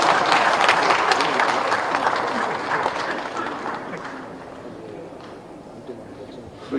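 A large audience at a CSR conference applauds in a dense, steady wash of clapping that slowly fades over several seconds, with crowd murmur mixed in.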